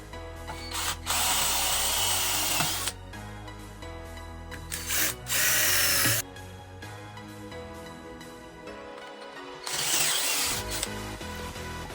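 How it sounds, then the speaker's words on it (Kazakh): A drill bores through the center of a taituyak, a Kazakh traditional instrument about one centimeter thick. Several loud bursts of motor whine and grinding are separated by quieter pauses and tool handling, with no talking. "Енді тайтұяқтың ортасын осындай сверломен"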